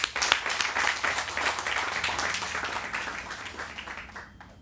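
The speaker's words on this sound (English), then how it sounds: "I think that deserves a round of applause." A crowd applauds outdoors at a groundbreaking ceremony for a shipyard apartment development, the dense clapping steady at first and then gradually fading.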